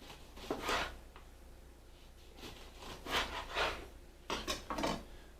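A kitchen knife trims the end off a lemon on a cutting board, giving a few faint, close scraping and tapping strokes in short bursts with pauses between them, in a quiet setting.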